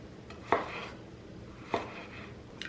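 A knife mincing garlic on a cutting board, two distinct, fairly close chops roughly a second apart, followed by a faint tap near the end, in a quiet kitchen.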